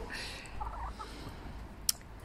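Young roosters in a chicken coop give a short burst of gobbling, clucking calls over low ambient rumble, moderately close, followed by a single sharp tap.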